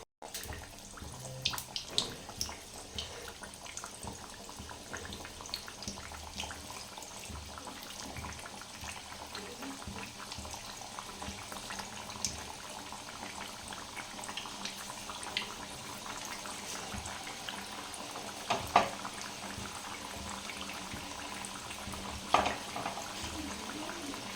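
Cabbage fritter batter fries in hot oil with a quiet, steady crackle and bubbling, broken by a few faint clicks and taps.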